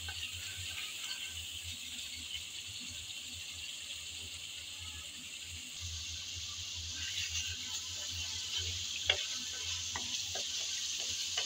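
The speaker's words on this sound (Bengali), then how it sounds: "আমি আবারও এসে নেড়েচেড়ে ভালোভাবে মশলাটা একটু কষিয়ে নিচ্ছি।" Masala spices stirred and fried in a pan for a Bengali shankar fish curry, a faint, even sizzle under scattered light scrapes and clinks of stirring that grow a little busier toward the end.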